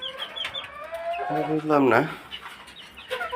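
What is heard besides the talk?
hen clucking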